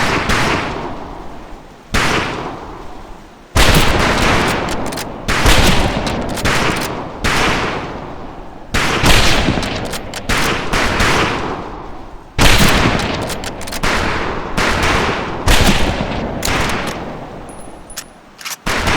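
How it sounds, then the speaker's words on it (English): Rifle gunfire in the World War II shooter Medal of Honor Pacific Assault: loud, close bursts of shots in bunches separated by brief pauses, with no talk. "You're afraid of that rifle, son! Fire it like a man!"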